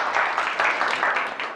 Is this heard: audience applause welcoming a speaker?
yes